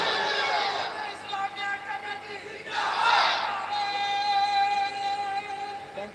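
A crowd chants takbir together, the massed voices rising in a loud unison shout midway, with a single amplified voice leading before and after.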